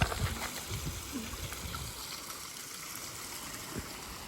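A Yzert solar fountain sprays water into a pond or bird bath, giving a constant close splashing trickle with a few small knocks, steady from start to finish.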